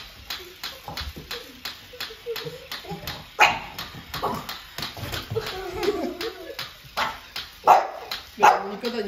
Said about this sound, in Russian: Рада, это ж маленький щенок. Собачка